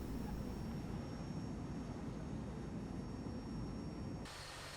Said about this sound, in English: So we'll go ahead and shut the engines down here.